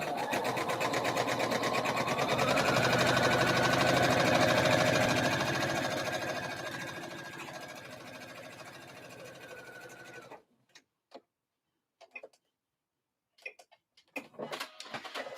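A domestic sewing machine runs steadily while stay stitching a bodice piece within the seam allowance, a continuous loud motor whir for about ten seconds, then stopping, followed by a few faint short bursts of stitching and handling.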